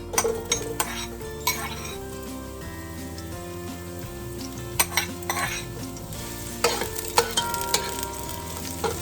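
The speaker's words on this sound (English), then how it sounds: "Oil should be heated. Right, let's get the spoon going. So I'm going to go in now with my onions." Onions frying in hot oil in a pot for yam porridge, with a spoon stirring and scraping against the metal in bursts over a steady close sizzle, no voices.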